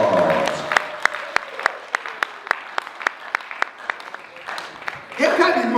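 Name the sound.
congregation clapping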